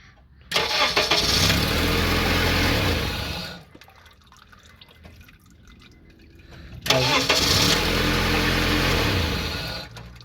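A Honda CR-V 2.4L engine cranks and catches, runs loudly for about three seconds, then cuts off. After a quiet gap with faint dripping, it starts again and runs.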